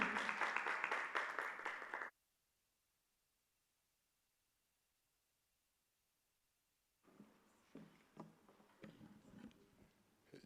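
An audience at a corporate HR seminar on remote and blended work applauds loudly for about two seconds, then silence falls, and a softer, scattered round of clapping picks up again near the end.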